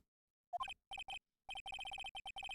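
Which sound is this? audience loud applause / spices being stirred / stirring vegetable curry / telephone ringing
telephone ringing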